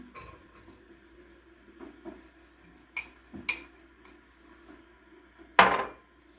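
A few sparse clinks and taps in a quiet room, then a louder rattling pour of washed wheat grain into a metal pot near the end.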